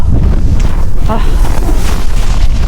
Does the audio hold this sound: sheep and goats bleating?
no